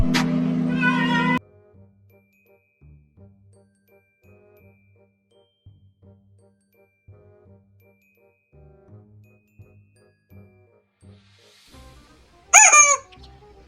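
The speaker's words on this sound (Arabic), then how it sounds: "انت مره تطلع لي معاك ديك ومره معاك فرخه" Rooster and chicken sounds: a loud crow or squawk opens, then quiet low clucking and pecking noises run through the middle, and a sharp loud call rises near the end, with no talk.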